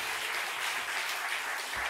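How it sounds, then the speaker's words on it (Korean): A church congregation claps steadily and loudly during a Friday night worship service, dense applause filling the whole moment without a break. "하나님께 영광의 박수 드립니다."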